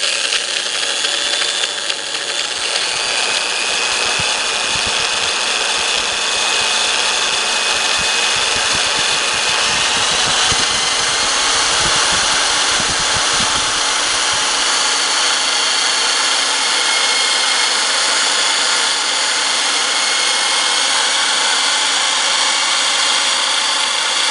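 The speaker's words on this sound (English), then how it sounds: "hold the drill machine as vertical as possible, and don't put too much pressure on the drill machine" An electric drill machine runs steadily while drilling into the engine of a 2000 Toyota Corolla with a 1ZZFE engine, a sustained bright whine with no talk.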